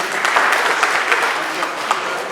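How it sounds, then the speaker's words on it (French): Audience at a press conference in Mali launching the Ghetto Rad'Art project applauds a German embassy official, dense continuous clapping at moderate volume with no voice over it. "sous vos applaudissements, s'il vous plaît"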